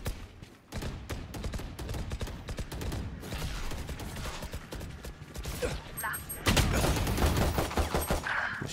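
Rapid weapon fire in the video game Valorant crackles in dense bursts of sharp, loud shots with mechanical clicks, growing heavier toward the end, with faint talk in the background.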